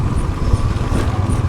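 A motorcycle coasts downhill from Kurseong toward Siliguri with its engine left running at idle and no throttle, a steady, even low rumble blended with wind and tire noise, close and continuous, without speech.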